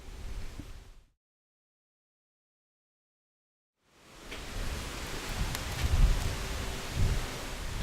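Broad rushing wind through trees, rustling steadily, cut by a few seconds of total silence before returning stronger with gusty swells.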